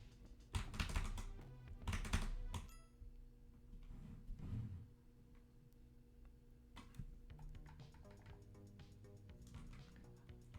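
A computer keyboard is typed on in bursts while a game is played, with loud clustered key clacks early on and then lighter scattered taps over a faint background.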